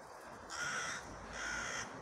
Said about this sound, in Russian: Вот ворона орет.